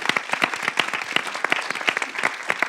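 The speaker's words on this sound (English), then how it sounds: "can we give our young people another round of applause for sharing their story?" An audience at a community evening about immigration stories in Silver Spring applauds its young people, a steady crowd clapping of many hands that stays full and even throughout, with no talking over it.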